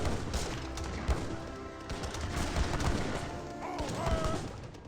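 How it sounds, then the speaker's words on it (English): Gatling guns rattle in an Age of Empires 3 battle, a dense, continuous wash of rapid crackling fire and distant clatter that holds steady throughout with no clear pauses, at a moderate level. "those walking on rifles getting annihilated by the Gatling guns"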